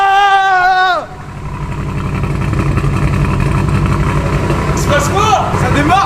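After a swap, the engine in a BMW M5 F10 is started. A rising whine cuts off as the engine catches, then a steady, close rumble settles in while voices talk over it near the end.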